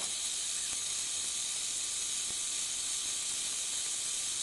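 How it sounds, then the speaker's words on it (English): Water at a steady rolling boil in a pot with an iPhone 6s submerged in it gives a continuous, even hiss and bubbling with no speech. "let it just keep boiling."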